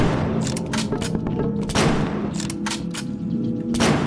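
A rifle fires in the shooter game You Are Empty with a string of loud, close shots at irregular intervals, each a sharp crack with a booming tail, over steady in-game background noise.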